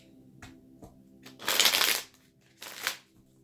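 Tarot cards being shuffled by hand, a few light riffles and taps followed by one loud extended riffle and a shorter final burst, close and crisp in a quiet room.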